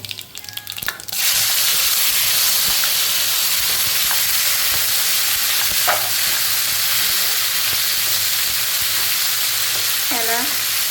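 Chopped tomato and spices with a pinch of asafoetida fry in a pan for a village-style stuffed ridge gourd dish, a steady, loud, close sizzle that runs on without a break after a brief first moment.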